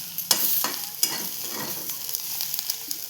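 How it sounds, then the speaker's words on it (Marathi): Ivy gourd sizzles while it is stirred and tossed in a hot pan over a low flame, with close, crackling frying noise and several distinct scraping stirs. "ही अशीच परतवून शिजवायची."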